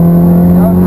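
Ferrari F430 on the Hallett Motor Racing Circuit, its engine holding a loud, steady tonal drone up close through a brief stretch of acceleration, with no voices over it.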